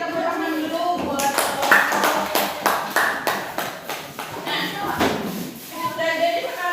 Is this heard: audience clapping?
yes